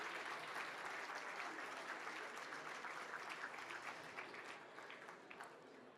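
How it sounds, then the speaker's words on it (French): Audience applause at an annual dinner of the CCAF, honouring two film actresses; steady dense clapping from a large room that holds for six seconds and tapers slightly at the end, with no voices over it. "Merci aussi d'applaudir madame Elsa Zilberstein et madame Camille Cotin"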